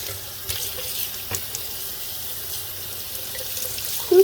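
A kitchen or bathroom tap runs steadily into a sink while a Webkinz Signature plush toy is soaked under the water, a constant splashing hiss with a few soft knocks and a louder splash at the end.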